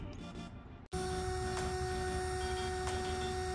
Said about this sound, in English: It's a little noisy now because of the fan.